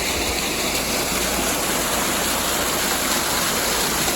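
Water pouring through a canal lock at Llangollen in low-water conditions, a steady, loud, broadband rush like a waterfall, continuous and close with no voices.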